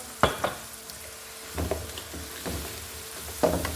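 Tomato salsa going into a hot pan for fish salona, frying with a soft sizzle under a few distinct scraping and clinking strokes of a spoon against the pan, close and unaccompanied by talk.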